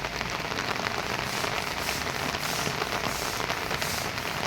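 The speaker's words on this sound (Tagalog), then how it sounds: "bumubuhos na naman ang malakas na ulan" Heavy rain pours down steadily, a dense, hissing patter of drops striking surfaces without pause.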